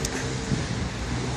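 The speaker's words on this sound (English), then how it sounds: "there's a lot of cars buzzing around in the background here" Background traffic of cars buzzing past, a low, steady roadway rumble with some wind across the microphone and no distinct passes.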